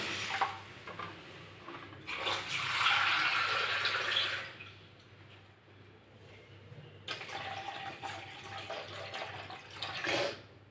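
Water poured into a pan of cooking potato curry, a broadband rushing splash lasting a couple of seconds, then a lower simmer and a second shorter pour near the end, close and fairly loud.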